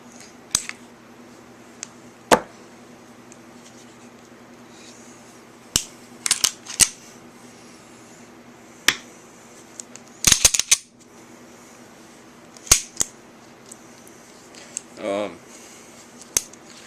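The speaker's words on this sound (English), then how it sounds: "So, guess I'll safety check it." Taurus PT111 Millennium pistol being safety checked: scattered sharp metallic clicks and clacks of slide and parts handling, some in quick clusters, over a quiet hum.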